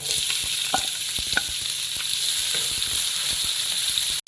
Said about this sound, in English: After a minute of sauteing in a medium flame, I am going to add the onions.